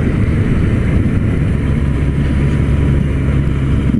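A Honda CB1000R Barracuda motorcycle pulls hard under acceleration, its engine a steady, loud, close drone with no pauses and no voices.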